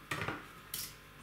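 A small potato-peeling knife scrapes the skin off a slice of pumpkin, giving two short, faint scraping strokes close by.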